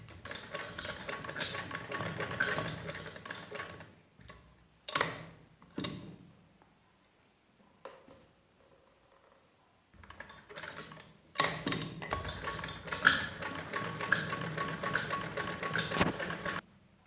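A sewing machine stitches the edge of umbrella gown fabric in a fold, running in bursts of rapid mechanical whirring with short pauses and a longer quiet gap in the middle.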